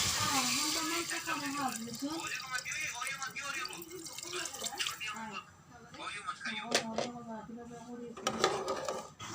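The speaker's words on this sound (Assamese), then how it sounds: "মোৰ ভাজা হৈ গ'ল, এতিয়া মই পানী মিহলাই ল'ম।" Water pours and splashes into a pot of fried rice for kesari (sweet khichdi) for several seconds, with drips and trickling close by, under talk and a few sharp clinks.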